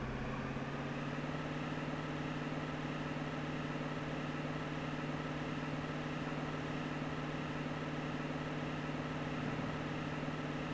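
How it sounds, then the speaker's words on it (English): A car engine from GTA in Las Venturas holds a steady, throttled drone with an even hum for the whole stretch, moderately quiet and with no talk over it. "You can hear the engine getting throttled in real time."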